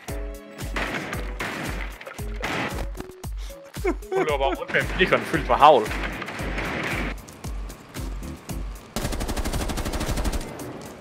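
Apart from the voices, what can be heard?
shotgun shots in a video game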